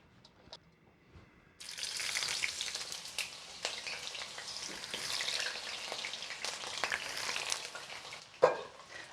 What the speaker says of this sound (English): let's start by frying some of the prepped eggplant